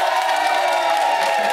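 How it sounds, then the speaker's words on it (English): A studio audience cheers, whoops and claps for an evicted contestant on a reality show, a loud continuous crowd roar with shouting voices over the clapping. "Give her another round of applause."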